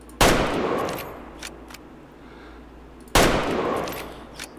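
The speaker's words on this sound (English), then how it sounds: "let's give her a shot." Two loud, close rifle shots from a 7mm-08 hunting rifle in the hunting video game Way of the Hunter, set in Scandinavia, spaced about three seconds apart, each a sharp blast trailing off into a long echoing decay.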